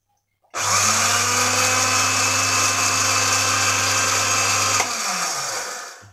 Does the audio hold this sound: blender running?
yes